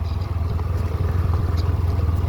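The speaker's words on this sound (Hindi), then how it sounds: "बस थोड़ी चैन आवाज़ करती है क्योंकि ढीली हो रखी है ना अभी।" A 2025 Hero Glamour X motorcycle on the move with a loose chain: a loud, steady low engine drone and hum, with a faint rattle riding over it.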